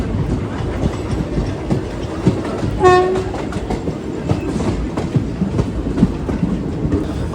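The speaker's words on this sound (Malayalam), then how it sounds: "എന്ന് നോക്കിയേ, പ്ലാറ്റ്ഫോം നമ്പർ 2 നമ്മൾ കയറുന്നത് കേട്ടാ." A train rolling into platform 2 of a station in the early evening, with a loud, steady rumble of wheels and carriages, dense rhythmic clatter, and one brief horn blast partway through.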